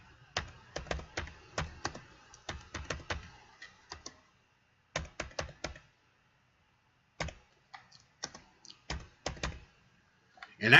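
Someone types on a computer keyboard in quick bursts of close, crisp key clicks separated by short pauses.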